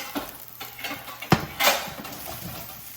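Egg fried rice is stirred in a pan with a utensil, soft scraping and a sharp metallic clink over a faint sizzle, intermittent and close.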